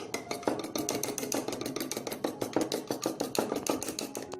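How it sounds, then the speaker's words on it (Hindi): Eggs with yellow food colouring beaten briskly in a bowl for Chinese fried rice, a steady run of quick clinking, tapping strokes of a utensil against the dish, close and fairly soft. "सबसे पहले एग में मैं ये जर्दे का रंग है, इसको ऐड करके एग को अच्छे से बीट कर लूंगी।"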